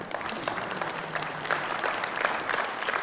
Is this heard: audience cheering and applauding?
yes